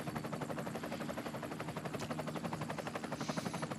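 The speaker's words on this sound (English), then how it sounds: "the helicopter is now up and flying here in Ronse, Belgium" A helicopter flies over a para-cycling road race in Ronse, Belgium, its rotor chopping in a fast, even pulse that holds steady throughout at moderate distance.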